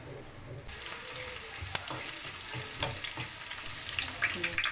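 Onions sizzling and frying in about half a cup of hot oil over a raised flame for urad dal gosht, a continuous crackling hiss with occasional stirring clatters, close and moderately loud.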